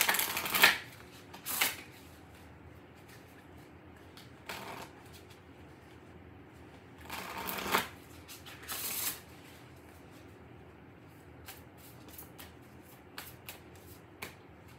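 Spellcasting Oracle cards being shuffled during a tarot reading: several short, crisp riffling bursts separated by quiet pauses, close and fairly soft, with no talk.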